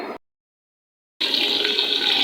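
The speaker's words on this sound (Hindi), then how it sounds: "स्ट्रेनर में डाल के अच्छे से धोएंगे" Soaked mash lentils are rinsed with water in a strainer, with a steady rushing splash of running water that starts abruptly after a brief pause and continues loudly.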